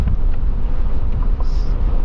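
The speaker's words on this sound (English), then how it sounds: "So it's very windy today." Steady low rumbling wind buffeting the microphone, loud and continuous, with no voices.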